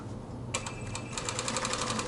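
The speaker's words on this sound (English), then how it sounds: "I'm going to top stitch so that the seam presses inward in the V." A sewing machine top-stitches a seam on a pair of shorts, starting after a brief pause into a fast, even mechanical chatter of needle strokes, close and steady.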